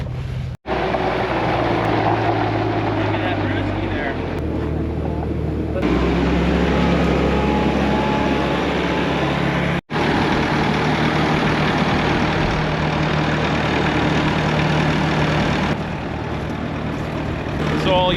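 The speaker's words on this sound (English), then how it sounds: "this thing's got a little Honda engine on it" A small Honda engine powers a hydraulic bale wrapper, giving a steady, loud mechanical drone that runs throughout with a brief cutout partway, up close and outdoors.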